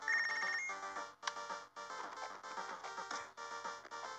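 A phone rings in the boxing video game Punch Club, a bright electronic ringtone of repeated tonal bursts with brief gaps, fairly quiet and clear with no talk over it.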